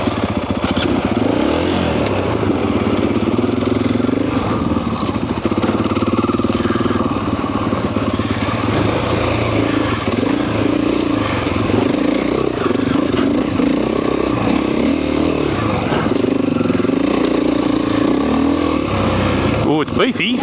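Husqvarna FE 501 four-stroke, roughly 500 cc single-cylinder motorcycle, heard while riding; the engine drones steadily and loudly, its pitch rising and falling with the throttle, with a brief drop at the very end.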